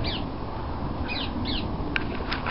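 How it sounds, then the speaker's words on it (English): A few raspy bird squawks ring out at a distance over a steady background hiss, spaced irregularly, on a walk between Staines and Windsor. "There's a noisy bird over there."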